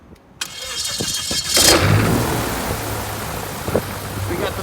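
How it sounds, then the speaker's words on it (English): A Viking 130 hp engine on an Aero Adventure Aventura light aircraft cranks briefly and fires up loudly, then settles into a steady, close idle. "We got the Viking 130 on the Aero Adventure Aventura. We'll do a test test."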